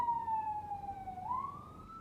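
An ambulance siren on a New York highway wails in a single long sweeping tone that falls and then rises again, heard steadily and fairly clearly through a closed window with no talk.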